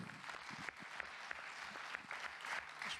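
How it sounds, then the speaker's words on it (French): A conference audience applauds a speaker at an entrepreneurship convention, with continuous dense clapping from a crowd at moderate distance and no voices over it. "France Charruyer, applaudissements pour elle,"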